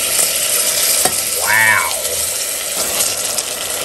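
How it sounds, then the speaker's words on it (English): Chipotles, smoked jalapeños, dropped into a pan of translucent frying onions give a sudden loud sizzle and hiss that swells briefly and then settles into a steady frying crackle, with a brief squeak in the middle and no talking. "So now that the onions are, they're becoming translucent, I'll add the chipotles"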